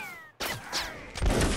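Scattered musket volley in the Napoleonic Wars game, a line of soldiers firing: a burst of overlapping cracks starts abruptly and swells again, loud and dense, with no talking.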